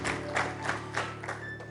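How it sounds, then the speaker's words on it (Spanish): A church congregation applauding together, steady clapping with a few louder bursts, heard indoors over a low hum. "Démosle un fuerte aplauso al Señor"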